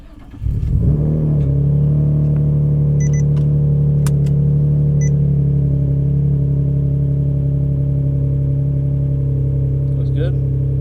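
A 600HP single-turbo Nissan 350z starts and settles into a loud, steady idle with a deep rumble, heard close by, with faint clicks and brief noises over it.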